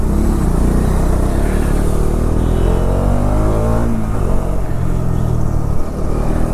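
A Bajaj Dominar motorcycle ridden through traffic, its engine a loud continuous close rumble that rises and falls in pitch as the rider accelerates, with surrounding traffic noise and no talking.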